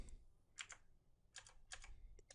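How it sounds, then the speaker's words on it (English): Keyboard arrow keys are tapped repeatedly at a desk, giving several crisp, close clicks in small pairs and clusters separated by short pauses, against a quiet background. "I'll just use my keyboard down arrow to go through all of these"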